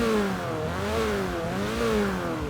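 Engine of a 1981 Ford Fiesta XR2 in Forza Horizon 3, revving up and down in a steady rising and falling pattern, a buzzy small four-cylinder note at constant loudness with no talk.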